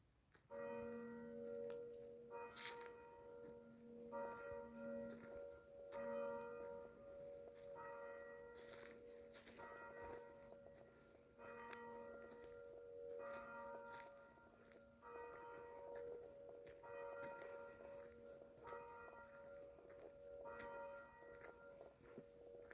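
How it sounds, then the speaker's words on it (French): Church bells ring at Sainte-Baume in a repeating pattern of clear tolling strikes, several bells sounding in sequence with long ringing tones, heard from a moderate distance over soft outdoor ambience. "le son des 12 cloches nous accueille"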